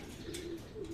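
A racing pigeon cooing softly at close range, two low, rounded coos in quick succession over a faint background hiss.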